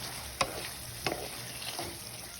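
Moong dal tipped into a pot of simmering cucumber kootu and stirred, with a few sharp scraping knocks of the spoon against the pot over a soft bubbling background, with no voices.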